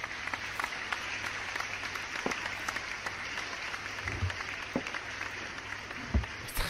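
Sustained applause from a crowd in the video game Unpacking, a steady dense patter of clapping running throughout with a few louder thumps near the end and no talk.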